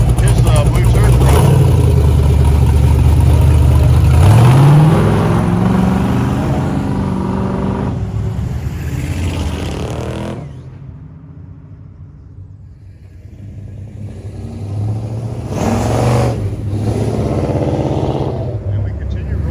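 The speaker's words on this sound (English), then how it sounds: "Here goes the Suburban." A Chevrolet Suburban truck rolls away during a car-cruise rollout, its engine rumbling loud and close before revving and fading into the distance, then another vehicle rumbles up. People talk over it throughout.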